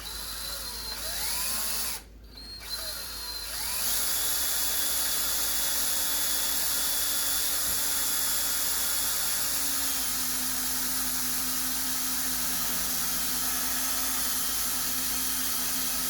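A power drill runs steadily as it countersinks screw holes in a melamine shelf panel, a sustained whine that dips briefly near the start and then holds loud and continuous with a faint lower hum, no talking.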